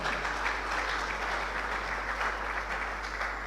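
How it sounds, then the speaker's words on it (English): An audience at a first-Friday community series event applauds steadily for a few seconds, an even, moderate wash of many hands clapping with no talk over it. "Please, another round of applause for her."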